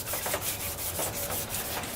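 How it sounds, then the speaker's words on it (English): Rapid rhythmic scratching of sandpaper rubbed back and forth over a Datsun 280Z air dam, close and steady, with short strokes repeating about every quarter second. "we got the Airdam all sanded down"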